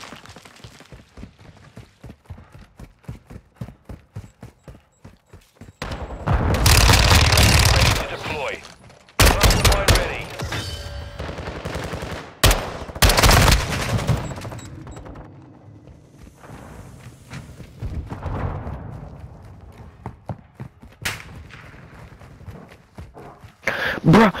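Light machine gun fire in a first-person shooter video game: bursts of rapid automatic shots, loud and close, arriving in several heavy volleys between quieter stretches of rhythmic footsteps, with someone speaking over parts of the action.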